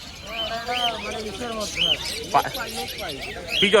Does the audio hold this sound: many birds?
yes